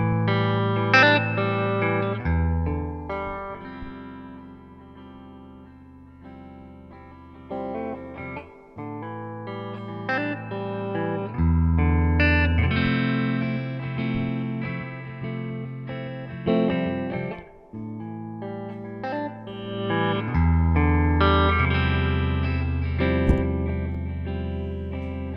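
An electric guitar plays through an amp cabinet miked with a Shure SM57, distorted chords and sustained notes ringing out loud and alone, with pauses between phrases.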